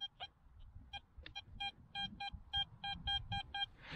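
A metal detector sweeping for relics gives a string of short electronic beeps in an irregular rhythm, close and clear against a quiet outdoor background.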